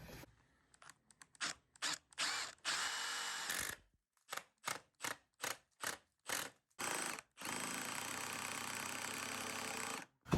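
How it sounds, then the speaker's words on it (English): A power drill whirs into a door in a long run, then in a series of short regular bursts, then another steady stretch, loud and close. "I'm drilling into this thing"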